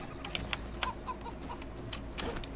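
Farm chickens in the survival game Enshrouded give soft, scattered clucks and short clicks over a low steady game ambience, quiet and intermittent with no talk.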